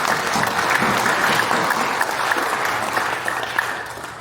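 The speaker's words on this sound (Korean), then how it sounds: "은혜 베풀어 주신 하나님께 영광의 박수 한번 돌리겠습니다" Sustained applause from a church congregation at a Christian fellowship worship service, steady and fairly loud with dense clapping throughout, no voices over it.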